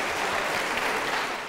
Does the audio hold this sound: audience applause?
yes